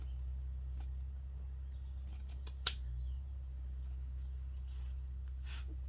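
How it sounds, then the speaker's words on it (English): Scissors snip through a sock at its ribbed cuff, a few brief crisp cuts, one sharper and louder snip standing out, over a low steady hum in a quiet room. "You can go ahead and cut the sock"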